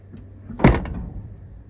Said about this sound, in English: You get a window open, you can close these doors real easy.